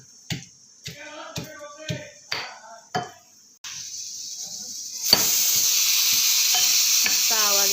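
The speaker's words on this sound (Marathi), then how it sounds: "मस्त आवाज येतोय बघा भाताचा।" Rice cooks in a pot on an Indian home stove, making a steady hiss and simmer that grows louder partway through, preceded by a few rhythmic knocks nearby.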